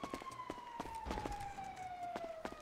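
A wailing police siren in a video game with a slowly falling tone sounds at moderate distance, with scattered clicks and thumps over it.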